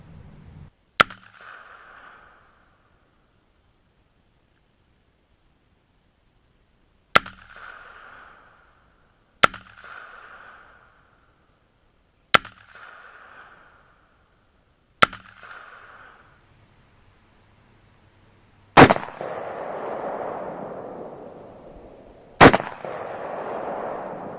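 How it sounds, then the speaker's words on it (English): An IWI Tavor rifle fired outdoors: sharp single gunshots spaced several seconds apart, each with a short ringing echo, the last two louder and followed by a longer rumbling decay. "Let's go out and shoot it and see what it does."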